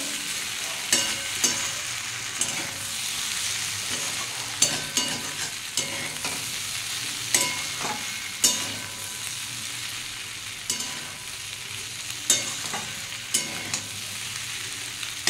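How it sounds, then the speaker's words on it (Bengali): Sliced okra and potatoes with poppy seeds sizzle steadily in a pan of hot oil while a utensil stirs them, scraping and knocking against the pan every second or two. "একটু ভালো করে নেড়ে নেবো"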